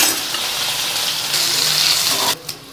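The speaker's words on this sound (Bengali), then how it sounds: "এই আলুটা আমি একটু ভেজে নেবো একসাথে ভাজা হয়ে যাবে আমার" Boiled potato fries in hot oil, a loud continuous sizzle that cuts off abruptly near the end, followed by a faint clink.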